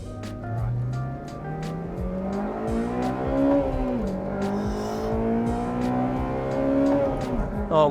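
A 2008 Honda Civic Type R FD2R with its high-compression naturally aspirated engine revs up hard and climbs steadily through the gears, the loud, rising engine note dominating with brief dips at shifts and no talk over it.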